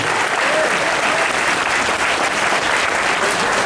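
Sustained applause from a fan convention crowd honoring Brody, dense and steady throughout, loud and close with a faint voice or two rising above the clapping.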